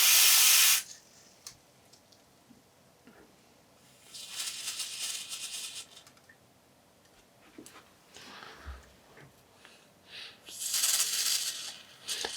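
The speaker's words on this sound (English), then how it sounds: "I'm going to use some isopropanol and I'm going to start spraying this in under the battery" Short bursts of hissing isopropanol spray from a nozzle, close up, aimed under a MacBook Pro laptop battery, separated by quiet stretches with faint small clicks and handling noises.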